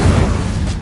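An Incendio fire spell goes off in a Hogwarts video game, a short loud whooshing burst of flame that fills the moment and fades quickly.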